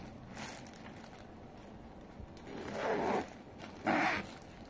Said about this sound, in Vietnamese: và sẽ có một khóa cá miệng, bên trong lót sạch đẹp